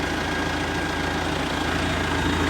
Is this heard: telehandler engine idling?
yes